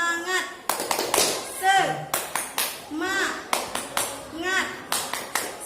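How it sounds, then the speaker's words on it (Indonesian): A group spirit clap (tepuk semangat) in a class setting, with regular rhythmic bursts of clapping alternating with children chanting and speaking, close and fairly loud. "Tepuk semangat."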